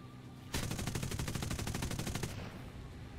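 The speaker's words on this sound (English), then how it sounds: "they changed the gun sound effects" A video game gun fires in a fast automatic burst of about twenty evenly spaced shots over nearly two seconds, sharp and close, then stops abruptly.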